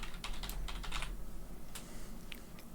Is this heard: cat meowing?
no